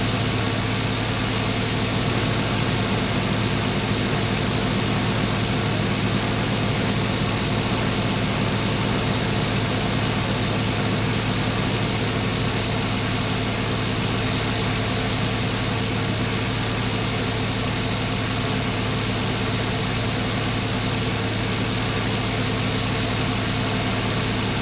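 Aircraft engine drone from the Cliffs of Dover flight game, a loud, steady, continuous hum with no change in pitch, heard alone throughout.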